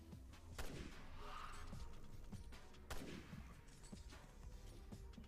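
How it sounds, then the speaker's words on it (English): Gunfire from the video game Resident Evil Revelations 2 in Raid Mode: two sharp, fairly quiet shots about two seconds apart, each trailing into a short rumbling decay over a low background. "Just going to hurry up and shoot them."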